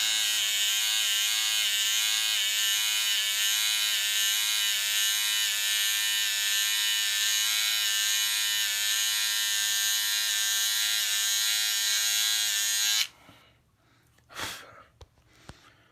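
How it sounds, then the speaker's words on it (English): An electric razor buzzes steadily and loudly against a man's face for about thirteen seconds, then cuts off, leaving a few faint breaths and small handling noises. "And now the final step to a good face shave"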